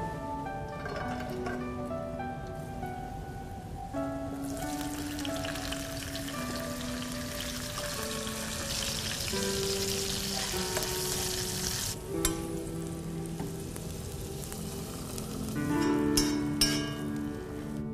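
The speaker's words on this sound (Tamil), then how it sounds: "நெய்யில முந்திரி திராட்சையை வறுத்து போட்டீங்கன்னா ரெடி சார்" Cashews and raisins frying in ghee give a steady, soft sizzle that runs the whole time beneath a prominent melodic music bed.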